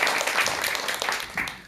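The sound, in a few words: audience applause welcoming a lecturer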